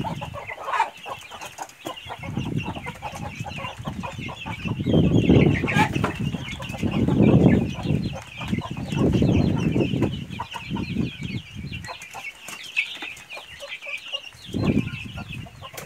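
Free-range hens cluck repeatedly in a farmyard, loud and close, with overlapping calls rising and falling over about sixteen seconds.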